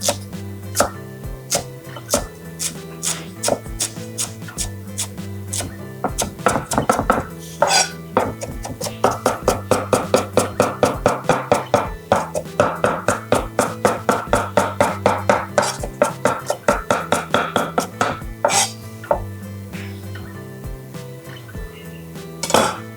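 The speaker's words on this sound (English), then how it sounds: "I'm gonna cut this up pretty fine" A knife finely chopping folded herbs with stems on a cutting board, dozens of close, sharp rhythmic taps coming in quick bursts with short pauses, loud and steady throughout.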